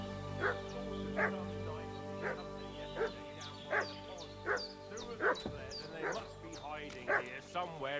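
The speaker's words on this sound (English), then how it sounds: "What's that dog making such a fuss about?" A dog in the medieval game Kingdom Come: Deliverance II barks and yips in a rhythmic series of loud, close calls about once a second, some with whimpering edges, over a low ambient game hum.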